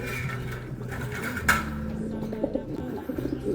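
Racing pigeons coo softly close by as a pair is placed together in a cage, their low murmuring calls mixed with rustling and light clatter.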